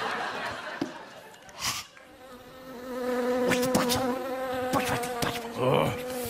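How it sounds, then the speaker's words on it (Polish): A wasp buzzes close by with a steady, droning hum that rises and wavers for several seconds, during a workplace drinking scene, with scattered clicks and brief laughter around it. "Panie Romanie, to tylko osa."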